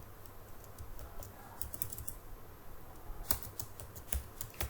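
Computer keyboard typing HTML code, quiet clicking keystrokes in an irregular stream with a few louder taps, close but soft against a faint background hum.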